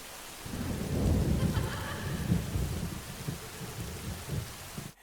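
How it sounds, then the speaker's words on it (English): Steady rain falls with low rumbles of thunder, a broad, close wash of sound that swells and settles before cutting off at the end. "God, it's raining."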